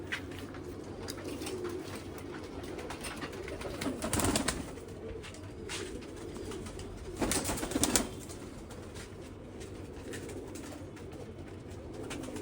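A flock of Jamuni pigeons keeps up a continuous low cooing, with two louder bursts of rustling or flapping wing noise midway and near the end, no one speaking.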